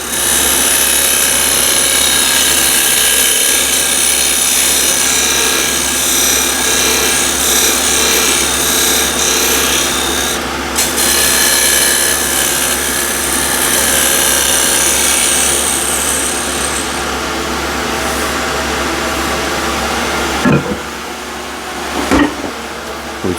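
A small 12mm square scraper works spinning walnut on a lathe at about 2000 RPM, giving a continuous loud rasping scrape over the motor's hum, broken by brief sharp knocks near the end.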